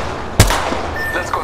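A single sharp, loud gunshot in Apex Legends stands out over steady game ambience, with a short ringing decay after it.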